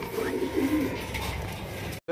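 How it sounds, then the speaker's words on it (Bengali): A Barhuma pigeon coos in low, repeated murmuring phrases close by, with faint background noise, before a brief cut to silence at the end. "এটা ভাই বারহুমা। বারহুমা কবুতর।"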